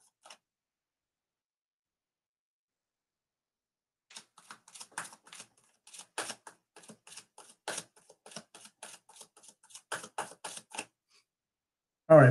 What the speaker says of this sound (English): Cards are just being shuffled.